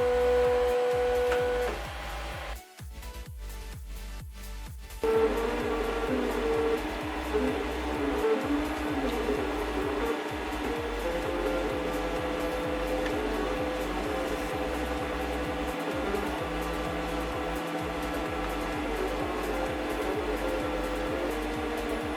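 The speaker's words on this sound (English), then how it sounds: "This is what it looks like when it's printing something, or should that be 3D printing?" A 3D printer runs continuously nearby, its stepper motors humming and whining with a rhythmic pattern of ticks and pulses, and a short burst of rapid clicks near the start; no talking.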